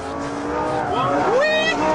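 A Lamborghini Gallardo power-sliding on a circuit during a driving lesson: the engine note climbs loudly while tires squeal, with a voice partly heard over it.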